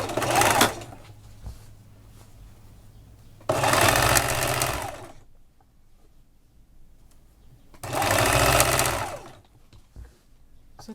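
An electric sewing machine stitches the sides of an adjustable apron in three loud whirring bursts of a second or more each, separated by quiet pauses.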